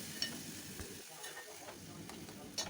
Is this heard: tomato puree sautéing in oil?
yes